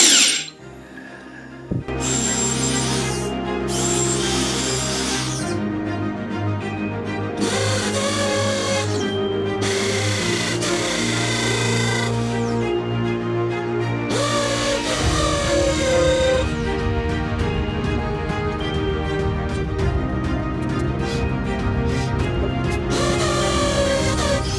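A power drill bores through the tiled floor of a château tower to make room for bathroom pipes. It gives a loud, steady mechanical whine that runs nearly the whole time, with shifts in pitch as the bit bites.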